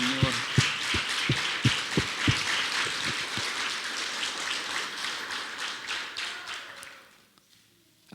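A church congregation claps together, loud and dense from the start. The rhythmic applause is punctuated by a few sharp, evenly spaced claps, then fades to near silence over the last second.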